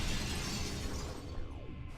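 Glass shatters loudly inside the video game Metroid Prime 2, a bright crashing burst that trails off into tinkling fragments and fades within two seconds.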